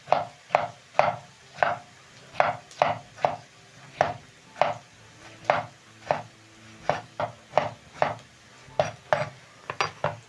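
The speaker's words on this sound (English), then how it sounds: "I'm going to be chopping my tomatoes." Steady, rhythmic knife chops through tomatoes on a cutting board, roughly two per second, close and crisp, with faint kitchen background.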